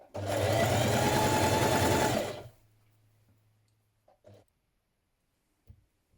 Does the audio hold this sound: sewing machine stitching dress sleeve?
yes